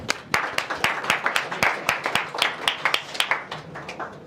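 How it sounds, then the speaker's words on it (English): A modest audience at a fireside chat applauds, with distinct, fairly close claps repeating in a brisk, uneven rhythm that thins slightly toward the end. "give yourselves a round of applause for coming out"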